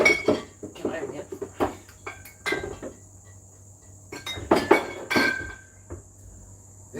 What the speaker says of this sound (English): Listen to the clinking of the bottles there, Herr Klink